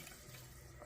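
Water poured into a pot while cooking a Ramadan meal, a steady close splashing pour that runs the whole moment without pause.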